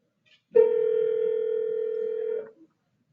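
A steady electronic ringing tone from a participant's open microphone cuts in on a video call, holding at one even pitch for about two seconds before stopping abruptly, with no talking over it.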